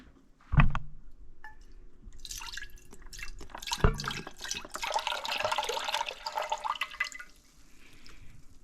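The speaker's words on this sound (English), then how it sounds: "Put in the chicken broth. 32 ounces of chicken broth." Thirty-two ounces of chicken broth pour from a carton into a pot on high heat for chicken sour soup: a sharp knock, then a steady, moderately loud glugging stream of liquid that tapers off.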